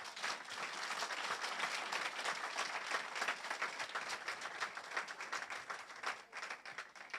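Sustained applause from a church congregation, dense and steady clapping filling the room for several seconds without a break.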